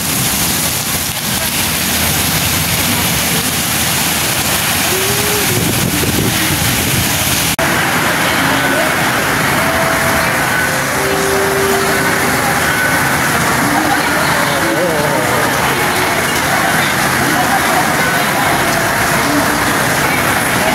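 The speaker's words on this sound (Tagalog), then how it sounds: "Grabe ang lakas ng ulan mga kamotovlog" Heavy rain pours steadily outdoors near Tai Po Market, a loud continuous wash throughout with faint traffic-like rumble underneath.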